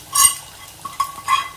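Mustard seeds fry in a hot pan with a few short, sharp crackling pops spaced unevenly over about a second and a half, with near silence between them.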